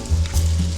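Egg balls frying in dark, reused oil left over from flour-dredged chicken on a turned-down stove, giving a steady close crackling sizzle with no talking.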